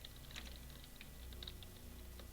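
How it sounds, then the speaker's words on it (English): Someone types on a computer keyboard, a quiet, fast, irregular stream of light key clicks, faint and distant, with no voices over it. "I can hear you typing."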